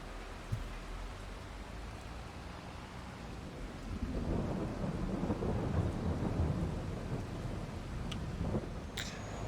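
Rain falling in woodland with low rumbling thunder, steady and fairly distant, swelling louder about halfway through and continuing as a broad wash of noise without voices.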